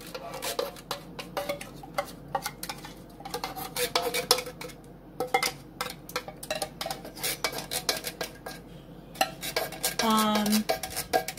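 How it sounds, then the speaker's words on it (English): A spoon stirring cream of mushroom soup in a crockpot for Swedish meatballs, repeated close scraping and clinking against the pot in an uneven rhythm. "You're going to mix cream of mushroom,"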